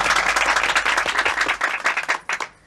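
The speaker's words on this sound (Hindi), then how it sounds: "तालियां।" Studio audience applause in a Hindi TV comedy scene, dense, steady clapping from a crowd that holds for about two seconds and then tapers off into scattered claps.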